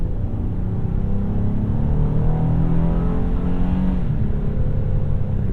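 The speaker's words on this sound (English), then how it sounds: "Wind out that V6." A 2021 Honda Ridgeline Sport with HPD package and V6 engine revs up under hard acceleration, its loud steady drone climbing in pitch and shifting smoothly through gears, heard from inside the cabin with no talking.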